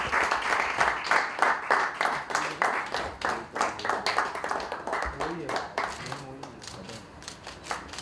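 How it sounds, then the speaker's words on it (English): An audience gives Seema a round of applause, beginning with a burst of rhythmic clapping that thins and fades while a voice starts speaking over it. "So big round of applause, Seema."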